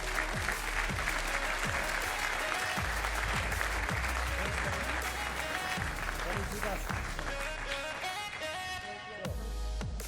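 A large audience applauds steadily at a MotoGP eSport Championship semi-final award presentation on stage, with dense continuous clapping and a low thumping beat underneath, the crowd noise sustained for the whole stretch.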